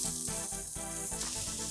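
Soaked poha being stirred into a hot tempering in a pan makes a soft, continuous sizzle with brief scraping stirs, close and alone.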